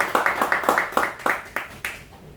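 Audience applause for a doctor introduced at a lecture, a burst of roughly a dozen sharp claps from a small group that quickly thins out and fades over a couple of seconds.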